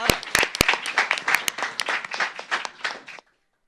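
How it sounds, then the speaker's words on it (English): Audience applause for the Doral Academy of Northern Nevada student team at a showcase event, lively clapping with sharp individual claps that cuts off abruptly after about three seconds. "let's give one more round of applause for Doral Academy of Northern Nevada"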